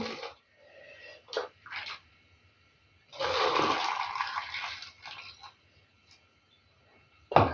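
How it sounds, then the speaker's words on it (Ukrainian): Boiling water poured from a kettle over jars of marinated tomatoes, a rushing, bubbling pour lasting about two seconds, with shorter splashes and clinks of glass before and after. "І так зараз кожну баночку пропарю оцим окропом."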